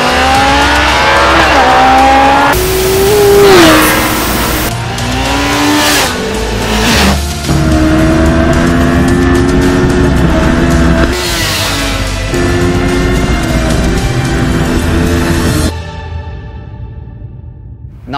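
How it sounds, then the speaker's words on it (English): A Kawasaki Ninja ZX-14R sport motorcycle's high-revving engine screams through rapid gear changes, pitch climbing and dropping repeatedly, loud and close, before cutting off to a brief fading tail. "a motorcycle that accelerates like this"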